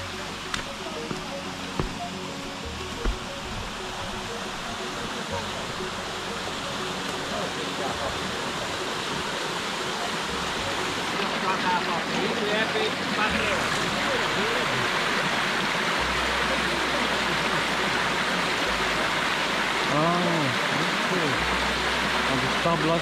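Water rushes steadily into the turbine of an old water mill, a continuous broad roar that swells slightly over time, with a voice talking faintly beneath it.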